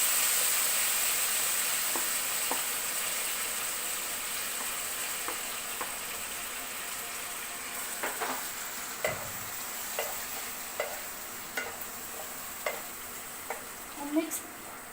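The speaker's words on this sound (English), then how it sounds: "And mix the complete tomato, ginger in a nice way." Tomatoes and julienned ginger sizzle steadily in a hot pan, with a continuous frying hiss and periodic sharp clicks and scrapes of a spoon stirring them through.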